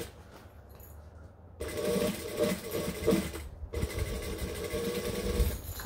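Sewing machine stitching a tote bag, starting after a quiet pause with steady rapid whirring runs, a brief stop, then another continuous burst of close mechanical stitching.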